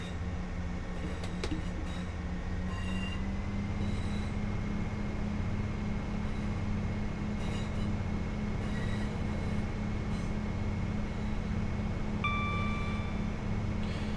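ScotRail Class 158 Sprinter diesel multiple unit running on the Fife Circle Line in Train Sim World 6, a steady low engine drone and rail rumble, with a few faint squeals and brief tonal chimes on top.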